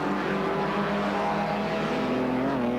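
Race cars at Road Atlanta drone steadily in the middle distance, a continuous layered engine hum with no single pass standing out.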